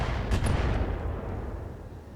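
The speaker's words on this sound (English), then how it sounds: "Long-range missiles." Long-range missiles launching in the BattleTech mech video game, a heavy booming whoosh with a deep rumbling blast that rolls on and slowly fades, loud and close with no talk.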